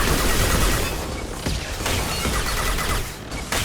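Loud, sustained automated turret fire in Mass Effect 2 rattles in a dense continuous barrage, with sharp bursts and booming impacts layered throughout.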